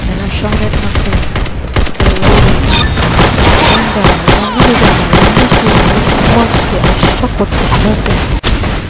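Dense, loud gunfire in the Roblox shooter Arsenal, with rapid booming shots and bursts overlapping throughout and game noise underneath.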